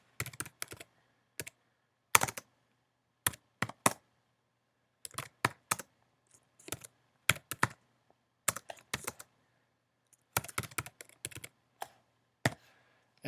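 Typing a PHP program at a computer keyboard, with sharp irregular bursts of close, clear key clicks separated by short pauses and no talking.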